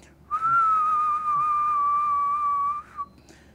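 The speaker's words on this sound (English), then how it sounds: "when you whistle at a constant tone such as this" A single person whistles one steady, sustained tone held for about two and a half seconds, clear and alone with no other sounds.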